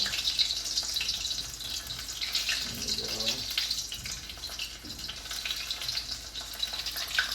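A bean curd roll fries in a pan with a steady, dense hiss and crackle of hot oil, close and continuous, while a voice speaks faintly underneath.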